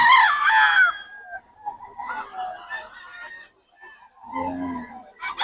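Chickens and roosters at a poultry market in Bocaue, with a loud nearby crow at the start followed by clucking and squawking calls from several birds, close and clear with no talk over them.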